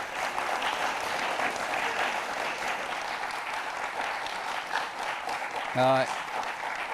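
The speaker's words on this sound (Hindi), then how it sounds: "एक बार जोरदार तालियां" Audience applause at a DD Urdu Independence Day programme, a steady wash of clapping throughout with a brief tonal blip near the end.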